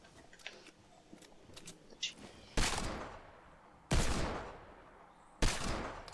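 Gunfire in Fortnite Battle Royale: three loud, separate shots a second or more apart, each with a lingering echoing tail, preceded by faint scattered clicks.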